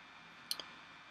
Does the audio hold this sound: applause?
no